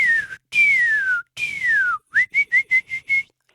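A person whistles an imitation of a cardinal's song: three long descending slurred notes, then a quick run of six short rising chirps, clear and close with no talk.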